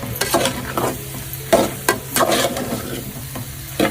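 A spatula scrapes and tosses steamed vegetables with salt in a hot pan, with irregular stirring strokes and a soft sizzle close by.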